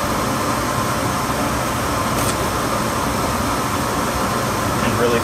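A steady, loud broadband whoosh of air pours from a workshop dust collector's air return, constant and unbroken for the whole stretch.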